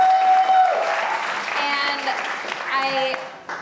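An audience at an arts center show claps and cheers loudly at first, then the applause gradually thins out while someone speaks over it.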